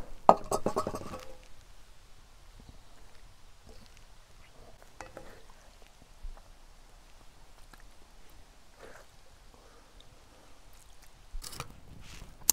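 Spoon scraping and clinking in a pot as pasta is stirred into chicken parmesan casserole over a campfire, scattered soft metal knocks and squishy stirring at close range, busier at the start and end, in a quiet outdoor setting.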